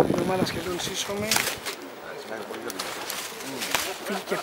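Racing pigeons cooing softly amid rustling and outdoor noise in strong wind, with a few sharp clicks and flutters.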